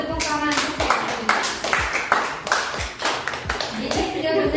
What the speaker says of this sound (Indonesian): Tepuk tangan untuk Feby.